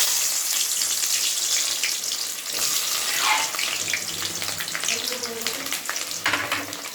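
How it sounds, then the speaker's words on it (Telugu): Sliced onions drop into hot oil in a home kitchen pan and fry with a loud, continuous crackling sizzle, broken by a few brief clatters and stirring sounds, close up with no talking. "ఇక నూనె కాగిందండి, ఉల్లిపాయలు వేసేస్తా."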